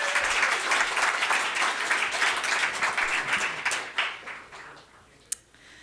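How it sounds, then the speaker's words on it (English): Audience applause at a storytelling show, a dense, sustained wash of clapping from a full room that gradually thins out and fades, ending with a single stray clap. "another round of applause for Karen."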